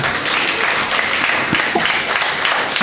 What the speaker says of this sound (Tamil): மீண்டும் ஒரு முறை இளைஞர்களுக்கு என்னுடைய கைத்தட்டல்கள்.